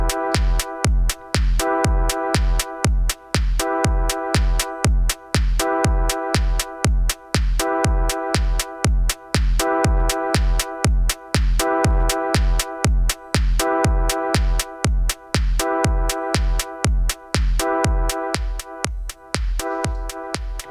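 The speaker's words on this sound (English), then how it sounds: "Heavy compression sounds like this on the Digitakt" A heavily compressed drum pattern from an Elektron Digitakt drum machine repeats as a steady, loud, dense loop, with punchy low kicks and bright hits in a tight regular rhythm and no voices.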